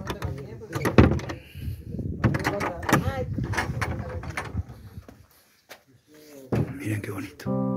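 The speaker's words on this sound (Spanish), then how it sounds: "Uy, me cerraron la puerta. Pero vamos a tratar de entrar." A shut door is pushed to get into the municipal government building in Antofagasta de la Sierra, Catamarca, giving knocks and rattles mixed in with people talking, then a short quiet spell and further scraping.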